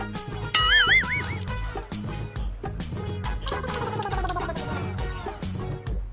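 A donkey lets out a short, wavering bray near the start, heard over a dense, busy backdrop of music and clattering sound.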